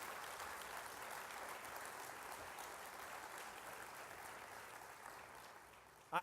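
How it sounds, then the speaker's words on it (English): An audience applauds the President of the United States in a steady, faint wash of clapping that holds evenly throughout and ends with a sharp knock. "Let's give him a big round of applause."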